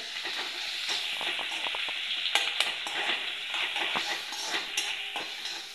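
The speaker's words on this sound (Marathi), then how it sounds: "त्यानंतर हा कांदा आहे तो घालणार। हलवून घेऊयात।" Chopped onion stirred and frying in a pan for a Kolhapuri mutton gravy, a steady bright sizzle broken by spatula scrapes and clinks against the metal, close and without talk.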